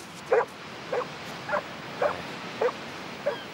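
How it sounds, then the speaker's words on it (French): A dog gives six evenly spaced short barks and yips, about one every half second, moderately close against quiet background noise, with no talking. "Allez, Cody, allez, viens, mon chien."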